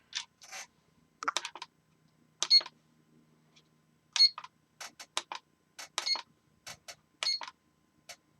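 A kitchen-style timer in a cluttered workshop gives a string of short, sharp electronic beeps and button clicks as it is set, spaced irregularly over several seconds in an otherwise quiet room.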